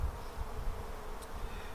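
Low, steady buzzing of agitated honeybees in an opened hive, a faint continuous drone with no speech.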